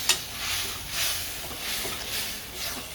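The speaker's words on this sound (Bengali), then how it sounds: "সব কিছু ভাজা ভাজা হয়ে গেল, এবার একটু জল দিয়ে দিই।" Water splashes into a pan of sizzling fried dried fish curry, a steady loud hiss and bubbling frying noise with stirring, and no one talking.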